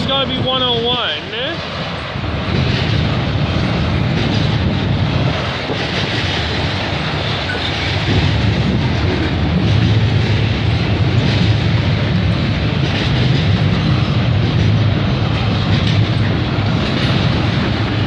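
A freight train rumbles steadily past trackside in the Greater Toronto Area, with heavy wind buffeting throughout and a brief whine near the start, loud and continuous.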